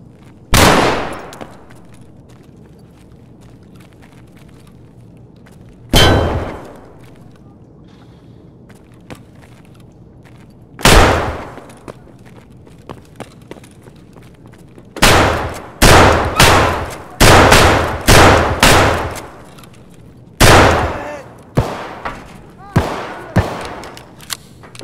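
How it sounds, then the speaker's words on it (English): Rifle gunfire in the video game Escape from Tarkov: single loud shots spaced several seconds apart, then a rapid cluster of closely spaced shots and a few more later, with soft background sound between. "Meet my rifle, Bodka. Would you like a shot from her?"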